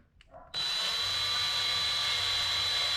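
A power drill with a high-quality bit starts abruptly after a brief clatter and runs steadily at high speed, a loud continuous whine close by, drilling on a Honda S2000 clutch delay valve.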